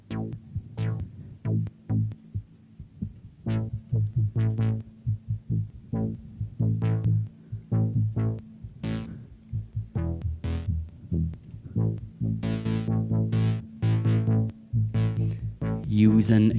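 A Behringer 2600 synthesizer plays stepped sample-and-hold tones with reverb added, a string of distinct pulsing notes that grow denser and brighter toward the end, loud and up close.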